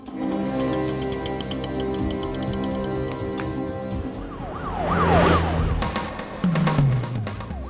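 Police car siren wailing through a tense roadside scene, its rising and falling sweeps strongest in the second half over a steady background rumble and a passing vehicle.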